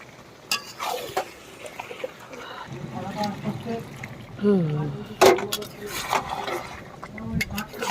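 Chicken cooking in a pan, with stirring scrapes and a soft sizzle that rise and fall in bursts while a person talks nearby throughout.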